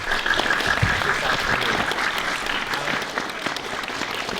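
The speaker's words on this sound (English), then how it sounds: "Can we just get a round of applause for both of our guests?" A room full of people applauds steadily at a school debate, the clapping dense and sustained from start to finish, with faint voices mixed in.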